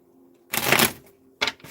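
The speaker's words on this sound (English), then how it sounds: "One more shuffle." Tarot cards are riffled and shuffled in two quick bursts, a longer crisp flutter followed by a shorter snap, close and clear in a quiet room.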